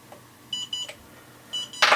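A BetaFPV LiteRadio 2 SE radio controller gives two short, clear electronic calibration beeps in quick succession, then two more after a pause, ending in a brief burst of handling noise.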